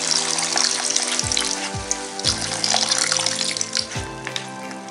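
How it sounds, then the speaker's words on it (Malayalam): A quarter glass of water is poured into a hot cooking pan of butter chicken with lemon juice, giving a steady broadband hiss and sizzle over background music. "ഇപ്പോൾ 1/4 ഗ്ലാസ് വെള്ളം ഇതിലോട്ട് ഒഴിച്ചു കൊടുത്തിട്ടുണ്ട്."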